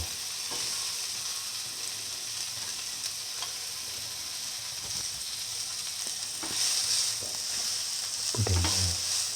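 Soya chunks for a fenugreek-leaf noodle bowl sizzle in a pan under a steady frying hiss, with scattered scraping stirs and a louder clatter near the end; no one talks.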